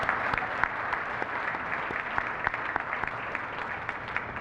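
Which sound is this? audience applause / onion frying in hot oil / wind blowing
audience applause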